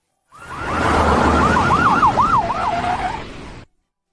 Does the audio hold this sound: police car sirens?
yes